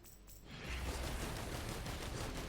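Steady rapid gunfire from the Commando in Risk of Rain 2, a continuous rattling stream that swells in after a quieter opening and keeps going without a break, no talking.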